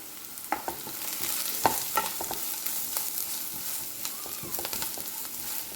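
Onion with garam masala, pepper powder and turmeric sautéing in a pan for chicken mappas, a close, continuous sizzle with irregular scrapes and knocks of a spoon stirring.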